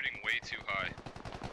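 Rapid bursts of enemy small-arms fire in the military shooter game Squad, a quick run of sharp repeated shots at mid distance, with a voice talking over the start.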